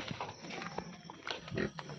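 A pig grunts close by in an Assamese village, a few rough, low snorts amid faint background rustling and footsteps.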